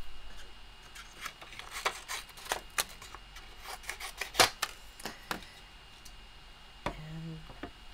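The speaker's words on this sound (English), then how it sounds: "So let me just trim that a bit." Scissors trim a piece of white card stock for a Christmas card: faint, quiet snips and crisp paper clicks come in an irregular scatter, close up and with no talking.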